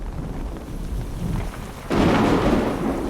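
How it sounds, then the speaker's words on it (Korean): Rain patters steadily on a surface, then a sudden loud crack of thunder bursts in near the end and rumbles on over the downpour. "천둥이 치는 소리에 깜짝 놀라며 잠에서 깨어났다고 한다."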